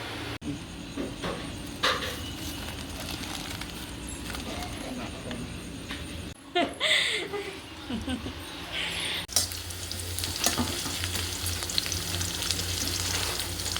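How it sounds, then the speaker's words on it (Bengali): Potatoes frying in a pan on a home stove give a steady, close sizzle that runs through the whole stretch, with a brief clatter of stirring midway and faint background voices. "যাই আগে আলু ভাজাটা বসিয়ে দিই"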